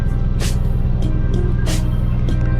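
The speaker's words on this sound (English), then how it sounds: "The car is on." A Mitsubishi Evo 9 MR engine idles steadily after a fuel pump relay fix, a constant low rumble close by, with a few short hissy bursts over it.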